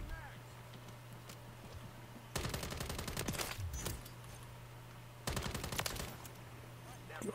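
Rapid gunfire shooting through a wall in Call of Duty: Modern Warfare III, two loud bursts of fast automatic shots separated by quieter gameplay, with a steady electrical hum underneath.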